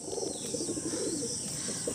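A Madrasi pigeon coos softly in a loft, its low murmuring calls running steadily with faint chirps from other birds behind.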